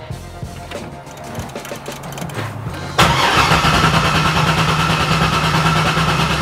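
A C6 Chevrolet Corvette Convertible with a newly fitted fuel pump and premium gas cranks briefly, then fires abruptly into a loud, steady idle that runs on close by, with no voices.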